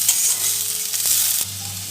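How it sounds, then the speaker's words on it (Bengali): Chopped onion frying in hot white oil in a wok gives a close, continuous hissing sizzle with a couple of short stirring knocks, and no voices. "এবার আমি পেঁয়াজ কুচিটা দিয়ে দেব, দিয়ে হালকা লাল করে আমি ভেজে নেব"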